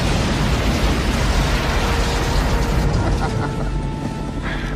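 A missile blast in a sci-fi action movie, heard as a loud, dense roaring explosion that rumbles on and slowly fades over several seconds.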